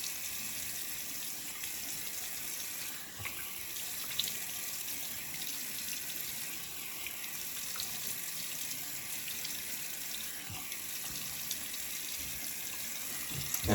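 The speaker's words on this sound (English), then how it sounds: "We're gonna rinse our face," A tap runs steadily while a face is rinsed with warm water after shaving, a continuous hissing flow with small splashes from hands, heard close and alone.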